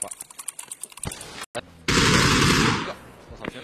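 Heavy cannon fire in an online shooter game: a loud, sustained blast of broadband noise roars for about a second, preceded by rapid clicking gunfire and followed by more clicks, with a tense player voice between bursts.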